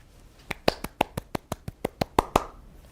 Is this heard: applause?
yes